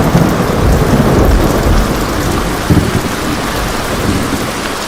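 Heavy rain pours down in a loud, dense, steady roar, while low, rumbling thunder swells beneath it, with no voices.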